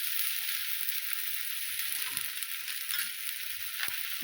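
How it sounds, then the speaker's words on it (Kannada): Oil sizzles steadily around a masala ragi roti on a hot pan, a continuous bright hiss with a few soft scrapes and taps near the end. "ಈಗ ಇದಕ್ಕೆ ಸುತ್ತಲೂ ಎಣ್ಣೆ ಹಾಕ್ತೀನಿ ನೋಡಿರಿ"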